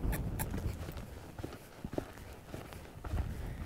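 A horse loping under a rider, with rhythmic hoofbeats on soft ground and dull thuds repeating in a steady three-beat gait, close by amid light outdoor noise.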